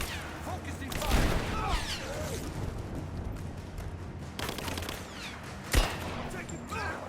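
Gunfire rattles through a Rise of the Tomb Raider firefight, with heavy bursts near the start, a sustained stretch of shots, and a sharp blast toward the end, mixed with shouted in-game voices.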